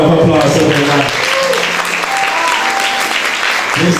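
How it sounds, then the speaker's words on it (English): Audience clapping at a school graduation, loud and close, rising under a voice at the start and then continuing as a steady wash of applause, with a few tones and voices mixed in. "Give a big round of applause to them."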